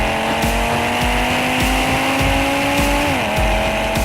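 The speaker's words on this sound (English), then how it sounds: "With a sound like a rally car at a stage start, launch control hurls the RS3 down the road" An Audi RS3 launches hard under launch control on a road in Oman, its engine note rising steadily through the revs, loud and close, with a brief shift-like dip near the end.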